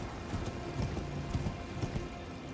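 Horse hooves clip-clop steadily in Elden Ring, a quick, even rhythm of hoof strikes close by, with no one talking.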